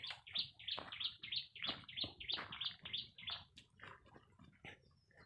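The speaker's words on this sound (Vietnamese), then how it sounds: "Chim." Small birds near a stream outdoors give a quick series of high, repeated chirps, about a dozen bright notes in a rhythmic burst, faint and fairly distant, fading toward the end.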